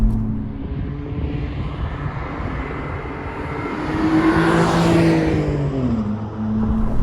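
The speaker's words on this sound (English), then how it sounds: "the sound of the exhaust is also really growing on me" A BMW Z4's exhaust drones steadily, its pitch rising and falling as the engine revs, loud and close with a rough low rumble.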